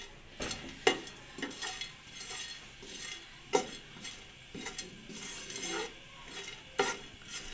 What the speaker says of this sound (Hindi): इसके अंदर हम ये इलायची डाल देंगे और ये बादाम हम इसके अंदर डाल देंगे और इनको थोड़ा सा भूनेंगे